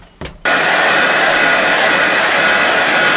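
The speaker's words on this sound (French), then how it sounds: "1400 watts un sèche-cheveux" A 1400-watt hair dryer clicks on and then blows as a loud, steady, close-up whoosh that continues without interruption, with no voices.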